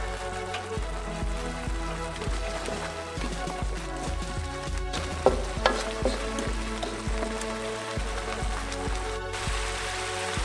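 Balado paste with palm sugar and salt sizzling in a pan as it is stir-fried, a steady crackle broken by scraping, knocking spatula strokes, with no talk over it.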